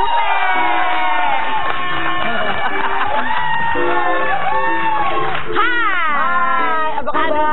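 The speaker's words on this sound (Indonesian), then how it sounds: "Tepuk tangan buat Jupe." Studio audience on an Indonesian TV talk show cheering and whooping loudly for Jupe, a steady crowd roar with excited shouts and some applause throughout.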